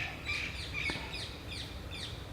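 Birds chirp repeatedly in quick, high, sweeping calls over a soft outdoor background hum, fairly faint and at a distance.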